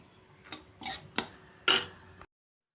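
White pumpkin halwa with roasted cashews and raisins mixed in by hand: four separate spoon scrapes and clinks against the pan, the last one loudest, then silence.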